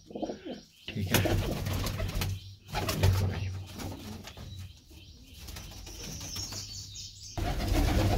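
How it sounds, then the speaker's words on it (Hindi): Pigeons at a pigeon sale in Delhi coo nearby in low, throaty murmurs, with occasional wing flaps and rustling around them. "ये देखो भाई कबूतर"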